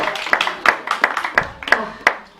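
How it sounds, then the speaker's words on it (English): A small group clapping in quick, uneven bursts with sharp hand claps, fairly close and moderately loud. "please give yourself a round of applause"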